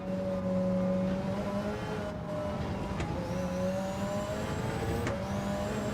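A race car engine drones at Road Atlanta during a long endurance run, a loud sustained engine tone from inside the car with pitch sweeping up through the gears and dropping at shifts, several rises and falls.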